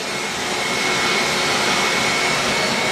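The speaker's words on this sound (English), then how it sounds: "Hoover's struggling away." A household vacuum cleaner strains to suck the air out of a bag holding a motorcycle, a steady, loud, continuous roar with a faint whine running through it, close by with no talking.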